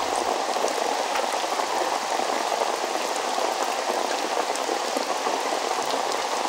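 Steady heavy rain pours down on a street market as shopkeepers hurry to close up, a dense, even hiss of drops hitting surfaces that holds at constant loudness throughout with no voices.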